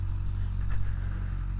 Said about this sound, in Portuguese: vou meter a moto aqui em cima do passeio